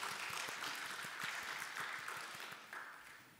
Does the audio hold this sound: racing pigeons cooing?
no